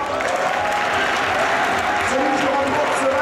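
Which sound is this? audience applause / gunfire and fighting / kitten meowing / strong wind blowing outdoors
audience applause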